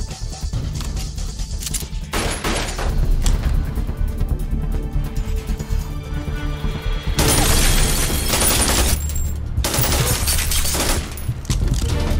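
Bursts of gunfire crackle in dense volleys, loud and sustained over several seconds with a brief lull before another heavy barrage, mixed with crashing impacts.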